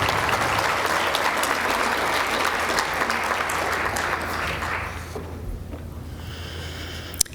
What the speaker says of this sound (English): And a round of applause again for our wonderful recipients.